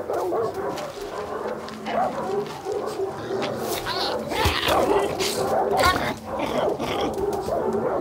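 Dogs in the video game Far Cry 6 barking, yipping and whimpering in rapid overlapping bursts amid game action and background noise, with voices talking over them.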